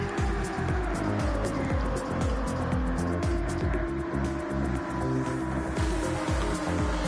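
GT3 race cars roar around Daytona in the Gran Turismo 7 racing game, several engines whining and shifting close together in a continuous loud pack.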